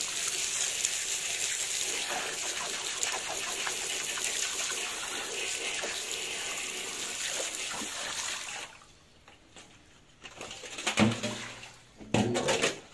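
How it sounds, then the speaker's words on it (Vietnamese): Rain starts falling outdoors beside a tank where a pet softshell turtle is being washed. Steady, dense hiss and patter run throughout, then thin out near the end, with a few close splashes and knocks. "Trời bắt đầu mưa."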